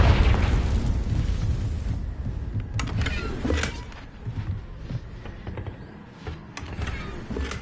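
Confringo fire spell cast in Hogwarts Legacy, a loud booming blast at the start that fades into crackling debris and scattered smaller pops and bursts.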